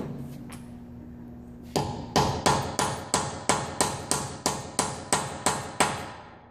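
A hammer drives a 19 mm impact socket onto a BMW wheel lock with about a dozen sharp, evenly spaced metallic strikes, close and loud, after a few quieter taps.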